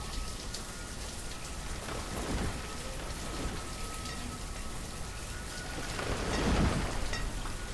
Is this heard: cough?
no